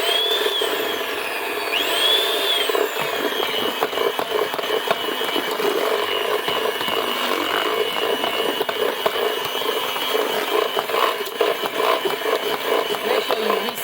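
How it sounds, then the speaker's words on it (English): An egg is whisked with sugar and butter in a bowl for a sponge cake batter, giving a steady, close rattling whir with fine rhythmic ticks that runs unbroken for the whole stretch, with no talking. "now I whisk that together again with the sugar and butter"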